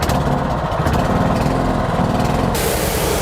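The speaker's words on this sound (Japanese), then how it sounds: "こちらのエンジンポンプを始動、よっしゃー、で馬力上げる" A small engine pump runs steadily and loudly nearby on a fishing boat, powering a hose used to wash a muddy net, its buzzing drone continuous with a hissing water spray.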